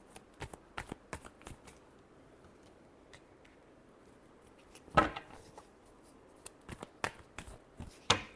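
A deck of tarot cards is shuffled in quick, crisp riffles and flicks, close and quiet. A louder burst of card snaps comes midway and another near the end, with no voices.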